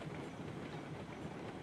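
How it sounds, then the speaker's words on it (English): Train rushing past in the Railroads Online video game at speed, a dense continuous rumble and clatter of wheels, loud and close. "that train flying by you at 100 mile an hour"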